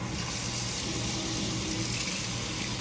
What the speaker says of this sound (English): All right, so we're gonna wash this out.